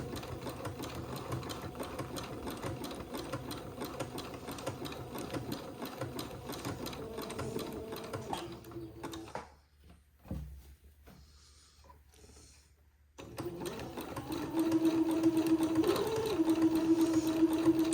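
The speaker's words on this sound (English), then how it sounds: "I've got about 2 yards of dress to zigzag, so this is going to take me a little while" A sewing machine zigzag-stitches along a dress hem, a continuous close mechanical whir that pauses briefly near the middle, then resumes louder and steady.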